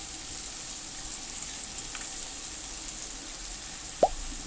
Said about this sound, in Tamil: கோஸ், கேப்சிகம் எல்லாத்தையும் சேர்த்து நல்லா வதக்கிக்கலாம்.